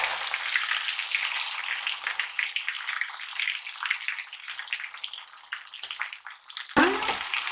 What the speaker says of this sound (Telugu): ఈ విధంగా ఒకవైపు వేగిన తర్వాత మరొక వైపు కూడా ఇలాగే వేయించుకోవాలి.